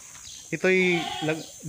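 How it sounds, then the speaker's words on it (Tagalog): Goats kept in pens at a farmhouse property in Nagcarlan, Laguna, give short nearby bleats, about three calls in under two seconds, with people talking around them. "Mga kambing, ayan, may mga kulungan din ng kambing."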